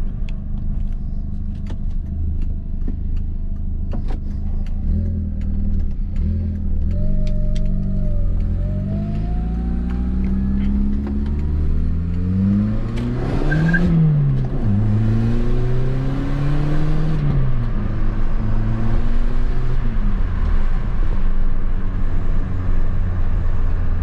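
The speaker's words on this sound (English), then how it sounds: "you can hear the turbo a lot with the stock exhaust" A turbocharged VW Beetle with a stock exhaust accelerates hard, engine revving up through rising pitch sweeps with a turbo whine, shifting and pulling again, close and steady, no talk.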